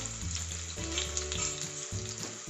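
Sliced onion and green chili sizzle steadily in plenty of hot oil in a pan, a continuous close frying crackle with faint stirring and no voices.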